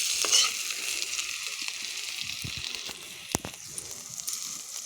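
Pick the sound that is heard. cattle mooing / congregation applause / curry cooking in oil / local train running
curry cooking in oil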